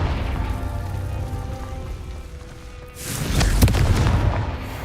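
Confringo explosion spell in Hogwarts Legacy erupts as a loud booming blast about three seconds in, rising from a low rumbling background into a sustained crackling roar.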